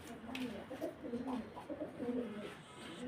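Soft, repeated pigeon cooing close by, a low burbling rhythm continuing throughout with faint background noise.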